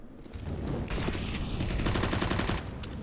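Mag 7 shotgun fire in a competitive Counter-Strike match, heard as a dense fusillade of repeated gunshots layered over other game noise, sustained and fairly loud for several seconds.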